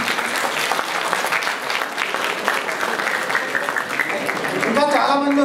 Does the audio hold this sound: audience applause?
yes